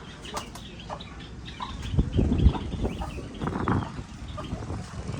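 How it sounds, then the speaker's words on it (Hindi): A young Chinese chicken chick in a rural farm setting, with soft clucks and chirps plus bursts of wing flapping and rustling near the middle, fairly close but quiet. "तो ये देखें, चीनी मुर्गी का बच्चा।"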